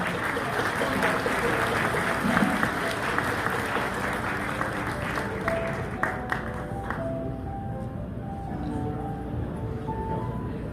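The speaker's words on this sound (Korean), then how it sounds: "다시 한번 힘찬 박수 부탁드립니다" Wedding guests at a Korean ceremony clap vigorously after the ring exchange, dense applause that fills the room for about seven seconds, then thins to scattered claps as music and faint voices continue.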